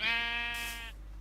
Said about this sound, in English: Sheep's gonna look at me. And look at me.